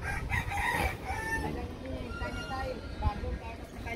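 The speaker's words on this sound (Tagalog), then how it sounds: "Yan, may mga manok dito." A rooster crows near the start, with chickens clucking around it, beside the Pasig River in the Philippines; a person talks over the birds throughout.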